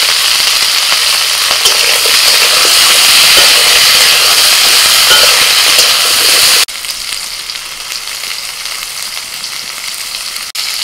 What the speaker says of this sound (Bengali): ডাঁটা আর আলু একটু ভেজে নিয়ে